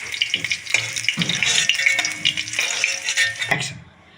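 Potatoes fry in hot oil in a home kitchen while cooking a mutton curry, giving a steady crackling sizzle with occasional stirring clatter, close and moderately loud, fading near the end.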